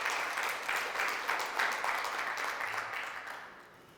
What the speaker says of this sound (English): A huge round of applause for our Dr.